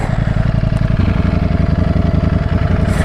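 Ducati Streetfighter V4 motorcycle rolling over cobblestones, its engine a loud, steady, close throbbing rumble with rapid pulsing and rattling, continuing without pause.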